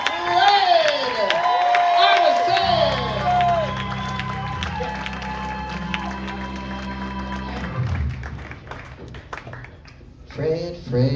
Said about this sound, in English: Another round of applause for Fred